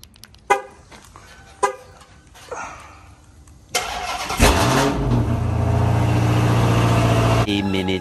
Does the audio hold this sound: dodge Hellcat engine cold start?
yes